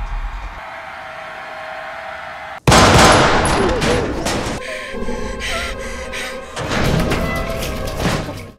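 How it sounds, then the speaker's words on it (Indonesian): Film gunfire as a burst of bullets takes down four disguised gang members in the 2024 movie 40 Acres, a quiet hum cut by a sudden loud volley of shots, then further sharp bursts and thuds under dramatic sound. "Dengan sekali semburan pelor, keempat anggota si Kobil yang menyamar akhirnya matot."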